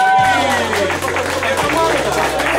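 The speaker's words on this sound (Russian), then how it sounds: "Аплодисменты." An audience applauds at the awards ceremony of a children's homes karting tournament, held at a karting centre: steady dense clapping from a nearby crowd for a couple of seconds, with a low hum and some voices mixed in.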